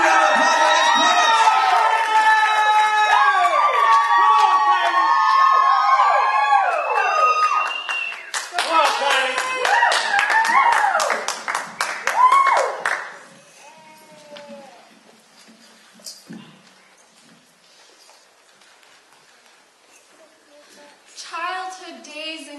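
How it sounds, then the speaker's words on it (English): A live audience at a poetry show claps hard and cheers for the poets, with whoops and shouts over dense applause. It fades after about thirteen seconds into quieter room noise and a brief voice near the end. "Big round of applause for these poets."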